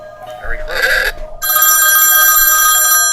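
A telephone rings with a loud, bright electronic bell tone that starts abruptly and keeps going steadily, following a brief burst of voices and noise just before.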